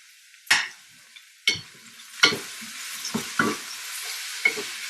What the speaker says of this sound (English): And you just kind of saute that up.